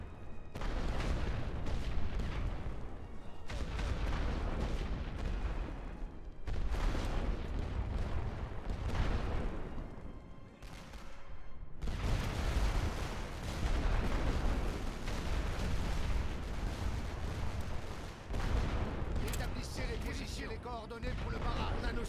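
Artillery and gunfire rumble through a First World War battle in The Great War: Western Front, heavy booms and crackling volleys rolling in long loud waves with short gaps, while someone talks over parts of it.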